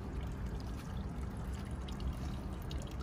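Water pours steadily into a village fountain decorated with flowers for a midsummer San Juan festivity, a continuous splashing rush close by with no voices.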